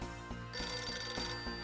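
A household telephone rings during a family dinner, its bell trilling in a steady run of repeated rings with a bright tonal buzz, moderately quiet and unaccompanied by voices.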